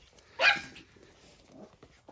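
A small pregnant Teddy dog, rescued and heavily swollen in the belly, gives one sharp bark at close range, followed by quiet, faint rustling.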